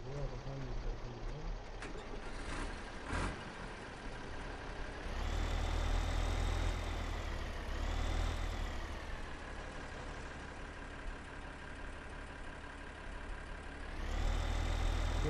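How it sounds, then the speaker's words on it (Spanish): Tractor engine in Farming Simulator 15, a low, steady droning hum that swells louder as the revs rise, eases back, then climbs again near the end, heard close and continuous throughout. "Vamos a quitar el tractor amarillo en medio porque voy a pasar el tractor."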